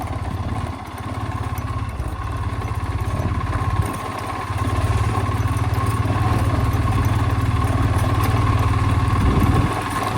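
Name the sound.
Hero Splendor motorcycle engine idling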